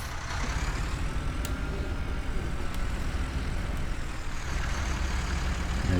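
A heavy tractor engine drones steadily in Farming Simulator 19, a constant low rumble with faint clicks, no talking.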